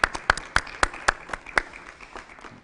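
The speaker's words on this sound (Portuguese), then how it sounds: "Salva palmas para o Pedro, talvez." Light audience applause for Pedro at a social innovation conference, a thin scatter of distinct handclaps from a small crowd, irregular and fading over a couple of seconds.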